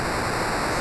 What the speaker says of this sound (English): water would come gushing out of here